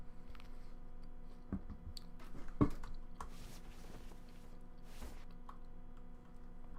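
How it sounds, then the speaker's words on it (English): Food being chewed close to a microphone, with soft irregular wet munching and a few sharper crunchy clicks over quiet room noise. "I will lean back when I'm chewing, just because I know some people don't like chewing sounds."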